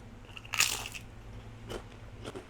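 Crunching on homemade baked chips, close and crisp, with one loud bite followed by a couple of quieter crunches in a quiet room.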